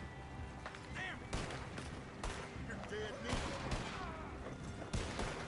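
Bursts of gunshots in a game as someone opens fire, sharp cracks and rattling volleys scattered among excited voices talking over the action.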